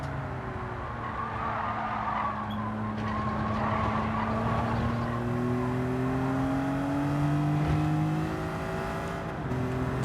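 A BMW Z4 race car in Gran Turismo 7 accelerates hard out of a corner in third gear, its engine note climbing and revving while tires squeal and skid loudly underneath, continuous and close.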